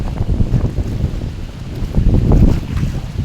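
Gusty wind blows over a pond at Nong Sung, Thailand, with choppy waves lapping the bank and rumbling microphone buffeting, swelling and dipping in loudness without any voices.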